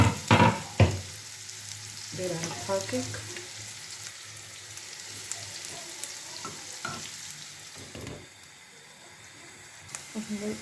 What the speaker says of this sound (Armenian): յուղը դրել եմ, սոթներ կլցնեմ, թողնենք տապակի սոթը